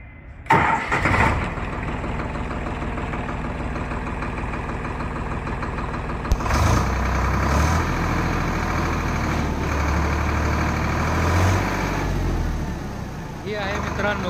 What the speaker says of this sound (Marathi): ही आहे मित्रांनो फार्मट्रॅक 60 या ट्रॅक्टरची फायरिंग